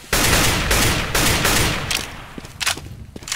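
Sustained gunfire and blasts in CS:GO, a grenade explosion among dense rapid shooting, loud and continuous, easing into scattered sharp shots toward the end.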